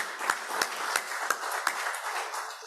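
Meeting attendees give a round of applause, a sparse, fairly quiet patter of hand claps with a few sharp, evenly spaced claps standing out as the clapping fades.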